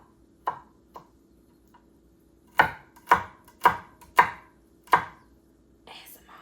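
A knife chops on a cutting board with a few scattered strokes, then five crisp, evenly spaced chops close up in a quiet kitchen.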